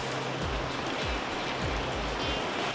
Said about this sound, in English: 370 kilometers of wild white water cuts through one of the world's last remaining wildernesses